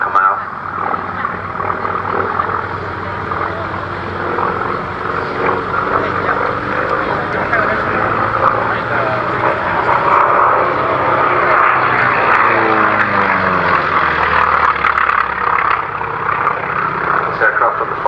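An FM2 fighter from the Fighter Collection flies at the Duxford airshow, its piston engine a continuous loud drone that swells and fades as it passes, with a faint sweeping pitch shift.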